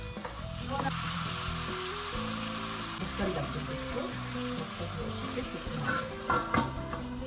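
Tomatoes hit a pan of hot frying masala for Bihari-style dal, setting off a steady, loud sizzle with stirring scrapes and occasional clinks throughout, no voices over it.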